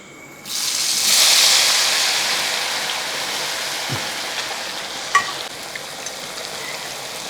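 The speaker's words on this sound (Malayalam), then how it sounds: "എണ്ണ ചൂടായതിന് ശേഷം നമുക്ക് ഇതങ്ങോട്ട് കോരിയിടാം" Potato pieces deep-frying in hot oil, a loud hissing burst as they go in, then a steady bubbling sizzle with a few sharp clinks of utensils against the pan.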